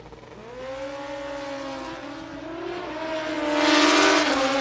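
Drag-racing motorcycles, a Kawasaki KZ and a black and red Suzuki Busa, launch together with loud rising engine whines that climb in pitch and swell louder toward the end.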